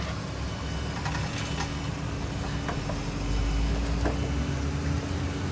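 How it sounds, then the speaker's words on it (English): A skid steer and a dump truck work outdoors in the background, giving a steady low engine rumble with a few faint clanks and knocks, fairly distant and continuous with no talking. "we've got a little excitement out here with the skid steer and the dump truck. So that's what the noise is in the background"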